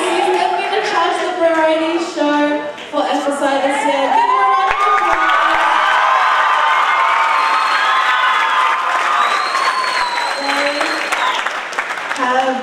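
A crowd applauds and cheers continuously at a youth variety show, with whoops and children's shouts mixed into the steady clapping.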